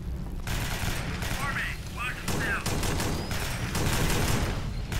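Pistol fire in the video game Alien Swarm: Reactive Drop, a rapid string of sharp shots over a dense, loud background of game action with chirping creature-like squeals and a constant low rumble.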